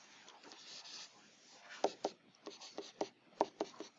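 A pen writes values by hand, giving faint scratchy strokes followed by a series of soft taps as each figure is marked, quiet and close with no talking.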